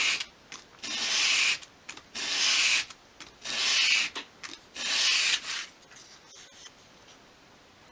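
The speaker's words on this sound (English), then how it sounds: "just hold it against a sheet of sandpaper at a 45-degree angle and" Small lid edge being bevelled by sweeping it over a sheet of sandpaper at an angle, heard as close, repeated scratchy rubbing strokes with short pauses between them and no talking.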